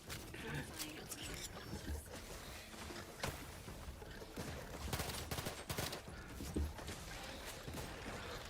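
Rapid volleys of gunfire from a powerful gun in the video game Outer Worlds 2, sharp repeated shots in irregular bursts over a busy combat soundscape with growling creatures, fairly quiet overall.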